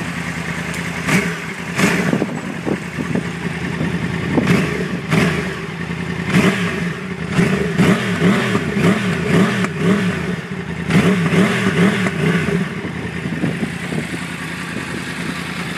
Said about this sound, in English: I'll give her a couple of revs for you.